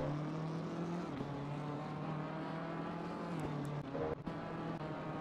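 A BMW race car's engine drones steadily nearby, and its tone drops midway as the car brakes and slows, with a brief rough rattle near the end.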